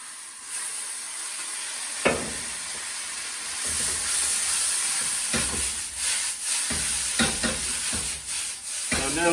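Chicken chow mein noodles sizzle and hiss steadily in a hot wok during stir-frying with sesame oil and Shaoxing wine, with intermittent scraping and tossing clatters cutting through the continuous frying noise.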